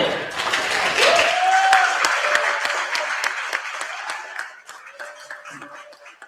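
An awards gala and fundraiser crowd applauds its keynote speaker, loud full-room clapping with voices mixed in, holding strong before tapering off toward the end.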